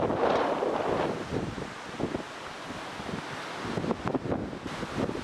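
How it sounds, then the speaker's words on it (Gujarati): Strong wind gusts buffet the microphone on the high mountain route to Kailash Mansarovar, a steady roaring rush with louder surges, heard up close with no talking. "હવા જુઓ કેટલી છે."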